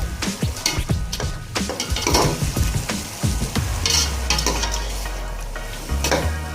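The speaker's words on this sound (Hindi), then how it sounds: "उसके बाद करेंगे इसकी भुनाई।" Potatoes and minced meat stir-fried in a pan for aloo qeema, a steady sizzle with repeated scraping and stirring strokes of a spoon, close and continuous, no talk.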